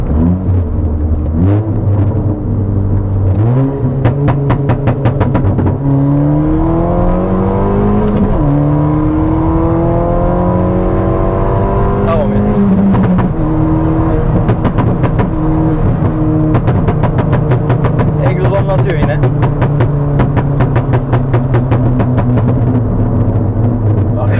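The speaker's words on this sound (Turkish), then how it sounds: "son bir ufaktan bir dokunup egzozu patlatıp bitirelim yavaştan videoyu" A tuned Stage 2+ Ford Fiesta ST engine of about 255 hp revs up and down continuously, pitch climbing and falling, with rapid crackling pops from the exhaust throughout.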